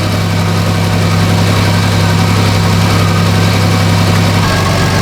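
A 2005 Chevrolet Equinox with the 3.4 V6, running rich, idles close and loud with a steady low hum that drops slightly in pitch near the end as the idle comes down.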